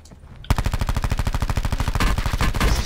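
Rapid automatic gunfire in the video game Call of Duty Blackout, a sustained burst of evenly spaced shots starting abruptly after a quiet moment and continuing loud and close to the end.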